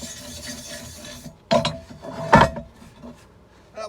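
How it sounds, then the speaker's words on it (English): Angle grinder cleaning up welds on a square iron crucible, two short loud rasping bursts against the metal with quieter scraping between them, close up. "Better get my grinder out"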